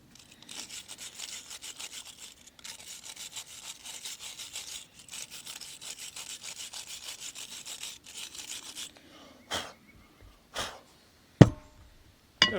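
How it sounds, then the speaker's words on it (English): Small wire brush scrubbing the rear brake caliper bracket where the pad clips sit on a 2019 Honda Odyssey, steady rapid back-and-forth rasping for about nine seconds, then a few separate short scrapes. "I always get a little wire brush. Just where the clips were."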